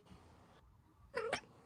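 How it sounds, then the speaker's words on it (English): A domestic cat meows briefly indoors, one short rising call after a moment of quiet room tone, fairly close and moderately loud. "sorry, my daughter's cat is also here."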